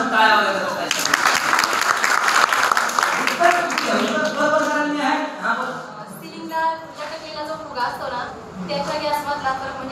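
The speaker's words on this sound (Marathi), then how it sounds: "बोला आता गाण्यानुसार टाळ्या वाजवत" An audience claps in time to a song at a National Service Scheme day lecture, a dense, steady rhythmic applause that fills the room, with voices and music mixed in underneath.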